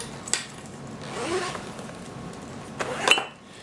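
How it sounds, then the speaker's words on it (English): A zipper on a bulky colored-pencil case rasps open in a few short pulls, close and fairly loud against a quiet room. "And it zips open and close pretty easily."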